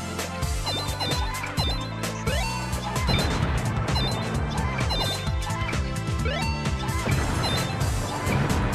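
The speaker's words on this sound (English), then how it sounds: "Hit Sonic and Super Sonic to earn points, but if you hit Eggman, you lose points" Hammer smashes in the Whack-a-Sonic minigame of Sonic Adventure DX, rapid repeated whacks and crashes over busy, loud game music and chiming effects, with no talk.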